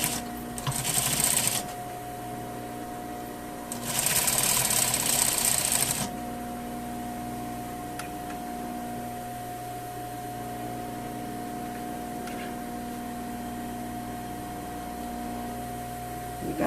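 A sewing machine runs in two short stitching bursts, about one and a half seconds and then two seconds, as it joins lined skirt pieces with a 5 millimetre seam. Between and after the bursts there is a quiet room with a steady electrical hum.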